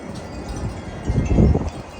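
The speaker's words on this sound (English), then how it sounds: "as you can see, a gust is on its way" A gust of wind on a snowy winter day pushes a low, rushing rumble against the microphone. It swells briefly toward the middle of the clip and then eases, fairly faint and with no voices.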